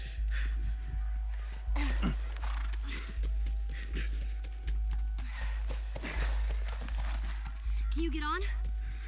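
A horse clip-clops in The Last of Us, a steady rhythmic hoof beat repeating every second or so over a low mechanical hum, with talking voices over it.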